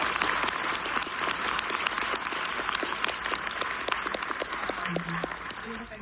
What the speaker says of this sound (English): I just want to give a round of applause for that